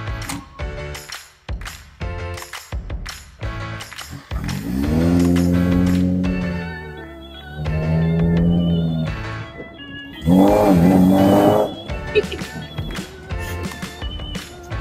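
A 1990 Morgan 4/4 with a 1.6 litre engine pulling through its gears, engine revs rising in long climbs and dropping at each shift, interrupted by clicks and knocks from the cabin, with one harsher, louder burst near the end.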